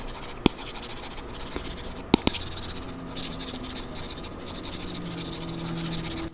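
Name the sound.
stylus drawing on a paper-like iPad Mini screen protector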